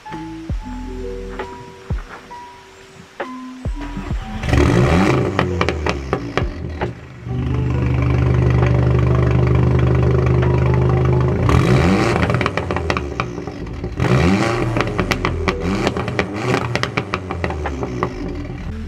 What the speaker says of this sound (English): what this 4-cylinder banger of a car sounds like